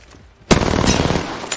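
Rapid automatic gunfire erupts after a quiet moment in a Wraith match video game, a dense loud burst of shots continuing steadily to the end.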